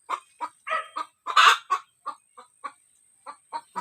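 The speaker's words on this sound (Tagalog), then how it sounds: "Maingay yung manok guys. Muputak." A hen clucks loudly and close by in a run of sharp, evenly spaced calls, with one longer squawk partway through and quiet gaps between.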